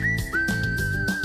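Short whistled tune in a mattress store advertisement, a clear sustained whistle gliding at a steady pitch over a soft musical backing for just over a second.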